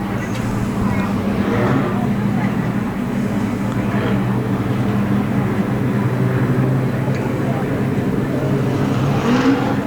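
Street stock race cars run the first heat of the night on a clockwise oval, engines droning steadily and loudly throughout with a dense, continuous roar, a voice talking over it.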